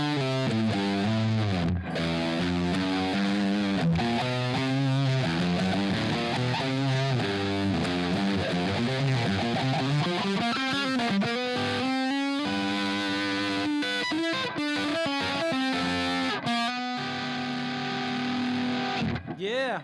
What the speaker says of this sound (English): that is the TC Electronics Grand Magus distortion